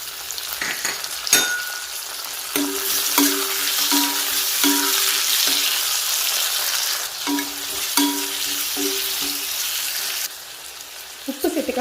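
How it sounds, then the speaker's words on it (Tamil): Onions and tomatoes sauté in a pan for an onion kulambu, a close, continuous sizzle broken by repeated rhythmic scraping and stirring strokes, with occasional clinks. "வெங்காயம் பாதி வதங்கிட்டு இப்போ நம்ம வெட்டி வச்சுருக்க தக்காளி சேர்த்துக்கலாம்."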